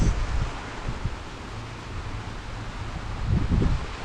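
Wind from a passing typhoon rustling and shredding banana leaves outdoors, a steady, soft broadband hiss with low gusty rumbles swelling near the end, no voices.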